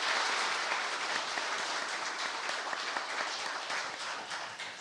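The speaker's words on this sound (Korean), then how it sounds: "우리 이 대목에서 한번 박수 한번 내셔야 될 것 같습니다" Steady applause fills a small conference room at a talk concert held in a National Assembly members' office building, a dense wash of many hands clapping continuously throughout at a moderate level.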